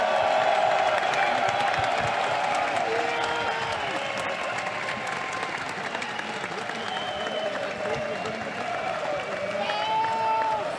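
A large arena crowd in Hamburg applauds and cheers for the G2 Esports League of Legends Spring Split champions, a dense sustained roar of clapping and whoops with an announcer's voice over it.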